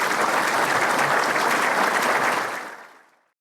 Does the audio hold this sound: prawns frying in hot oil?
no